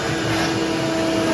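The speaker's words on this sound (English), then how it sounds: "I'm gonna turn on my shop vac." A shop vac runs steadily and loudly for the whole moment, a constant whooshing drone with a faint motor whine, used to pull dust away during a classical guitar headstock repair.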